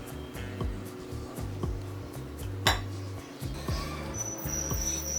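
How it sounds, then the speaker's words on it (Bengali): Vegetables being mixed with gram flour and wheat flour in a bowl, a spoon knocking and scraping against the container in a regular rhythm of soft clinks, close and fairly quiet. "এবার সবকিছু আবারও একসাথে ভালো করে মিশিয়ে নেব"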